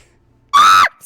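A single loud, piercing scream bursts out alone for under half a second during a tabletop role-playing session, sharp and sustained before cutting off abruptly.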